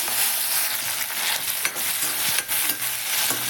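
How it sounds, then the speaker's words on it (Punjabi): Onion and tomato fry in hot oil for a bitter gourd peel dish, a loud close continuous sizzle with brief dips and a few scraping stirs of a spoon; no talking. "ਤੇਲ ਗਰਮ ਹੋ ਚੁੱਕਿਆ ਹੈ ਆਪਣਾ ਹੁਣ ਆਪਾਂ ਪਿਆਜ਼ ਟਮਾਟਰ ਪਾਵਾਂਗੇ"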